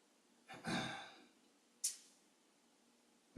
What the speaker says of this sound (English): Couple breaths here.